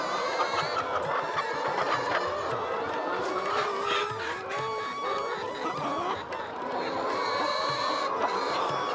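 A flock of chickens eating moringa leaves makes dense, close clucking and chattering all the way through, a busy overlapping mix of calls with occasional higher squawks.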